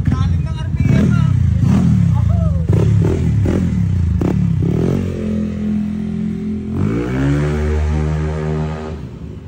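A motorcycle engine with a GP-style racing build revs hard and climbs in pitch, loud and close, while people talk over the first half before the sustained high revving takes over.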